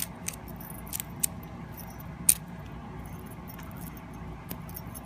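Sargent lock keys being handled, with a few faint metallic jingles and small taps spread over a quiet background.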